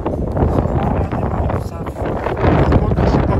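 Strong gusts of a northerly wind buffet the microphone with rumbling, uneven whooshes while people talk underneath, outdoors in southern France between the Larzac and Sète.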